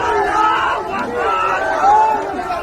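A crowd in Dhaka shouting slogans at a scene of arson and violence, a mass of raised voices chanting together, loud and close, with no other sound breaking through.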